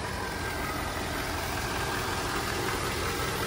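A V8 engine in a Volvo XC70 idles at a steady, unchanging level, a quiet, even hum with faint broadband hiss, heard alone without talk.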